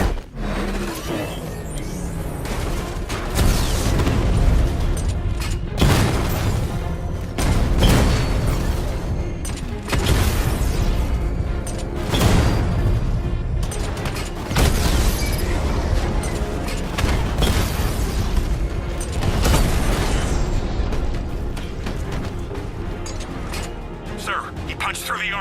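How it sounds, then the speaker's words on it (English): Heavy 60mm tank cannon fire and explosions from the video game Batman: Arkham Knight boom repeatedly in loud, dense bursts over continuous rumbling combat noise. "Your 60mm cannon will penetrate these heavily armored units, but it'll take a few direct hits to destroy them"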